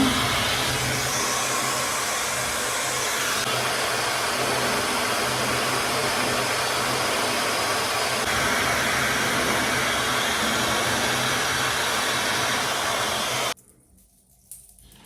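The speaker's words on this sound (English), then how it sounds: "So this blow dryer, put on cool setting." A blow dryer on its cool setting roars steadily and loudly up close with a broad airy whoosh, then cuts off abruptly near the end.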